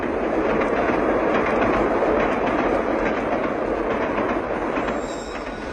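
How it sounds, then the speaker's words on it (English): An express train roars past in a stereo recording, a loud, dense rushing rumble with faint rhythmic clatter that holds steady and eases slightly at the end. "With stereo, an express train roars through your living room."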